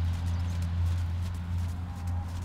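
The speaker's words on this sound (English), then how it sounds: "Ride the trot forward now." A horse trots during a riding lesson, its hoofbeats a faint, steady rhythmic clip-clop under a constant low hum, with no voices.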